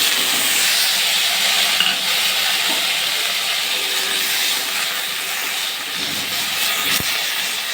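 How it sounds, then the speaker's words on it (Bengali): Vegetables with spices fry in a pan, giving a steady, close, dense sizzling hiss that continues alone without pause. "আমি ভাজছি।"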